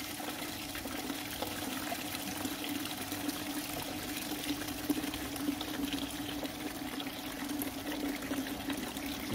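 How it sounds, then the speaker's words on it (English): Soft serve mix drains from the dispensing handle of a Brullen i91 soft serve machine as a steady, quiet liquid trickle with a faint machine hum, unbroken and alone for several seconds. "You hold the handle down till all the mixes come out."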